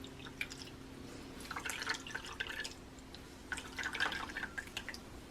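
Almond milk drips and trickles as soaked almonds are squeezed in a cloth, giving faint, close patters of liquid that come in two short bursts.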